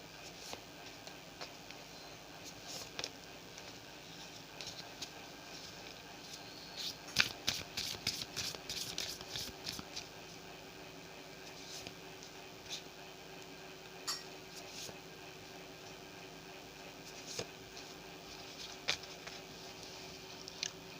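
Moon Tarot cards shuffled by hand: soft papery riffles and flicks run through a quiet room, with a denser burst of shuffling in the middle and scattered lighter card taps before and after.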